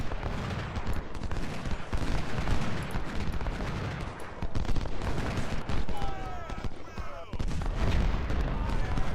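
Civil War artillery batteries in Ultimate General: Civil War fire repeated booming cannon shots, mixed with crackling musketry in a dense, continuous battle din, with a voice talking now and then.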